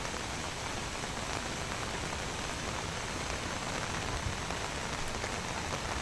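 Heavy monsoon rain pours steadily across roads in Andhra Pradesh, a dense, unbroken hiss of drops on surfaces that stays loud and even throughout with no voices.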